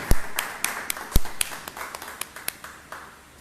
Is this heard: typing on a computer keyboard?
no